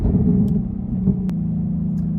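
Loud, close engine rumble from a tuned Ford Mustang GT S550 with long tube headers, steady and throaty through a pull with a slight dip and rise in tone, no talk over it.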